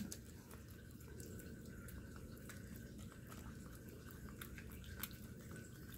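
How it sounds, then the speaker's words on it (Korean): A Maltese dog eating: faint, irregular little crunching and clicking sounds scattered over a steady background hiss, with no clear voices. "두부도 먹어. 같이 먹어"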